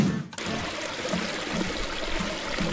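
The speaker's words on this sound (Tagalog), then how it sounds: "Laging maghugas ng kamay gamit ang tubig at sabon." Tap water running steadily while hands are washed with soap, a continuous close trickle and splash with no voices.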